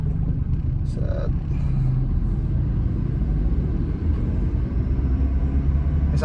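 A diesel Toyota Innova Reborn with a manual gearbox pulls away in first gear, its engine note a steady, low rumble as the revs climb gently. A voice talks over it.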